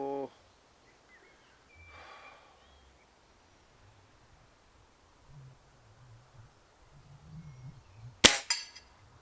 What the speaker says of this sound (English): I'm hoping that the sound of the firing cycle is coming across on camera